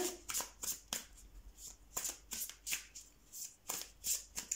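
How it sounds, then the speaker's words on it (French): Tarot cards riffle and slap through a series of quick shuffles, each burst a sharp papery crackle followed by short pauses, close and clear with no voices. "on va prendre juste une carte message globale"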